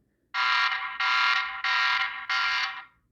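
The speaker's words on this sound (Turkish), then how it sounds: "duyduğunuz gibi ses alarmı bu." A TP-Link Tapo C320WS security camera's electronic alarm siren blares in four loud, steady tones, each about half a second to a second long, separated by short gaps, with no talking.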